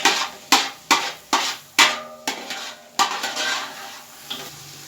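Carrot halwa (gajrela) being stirred and roasted in a brass pot, a metal spoon scraping and knocking the pot in a steady rhythm of sharp clanks with a soft sizzle beneath, close and fairly loud.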